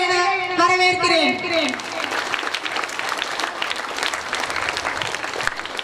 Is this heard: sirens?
no